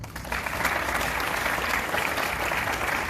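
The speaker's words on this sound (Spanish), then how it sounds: "para quien pido le otorguen un aplauso" Audience applause for a speaker at a Spanish-language lecture on suicide and its pharmacological treatment, steady dense clapping from a sizeable crowd that rises quickly and holds at an even level throughout.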